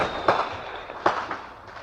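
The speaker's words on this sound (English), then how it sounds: "There were beautiful fireworks from the ship." Fireworks go off from a ship in two sharp loud bangs about a second apart, each followed by a crackling fizz that fades, with a faint high whistle in the background.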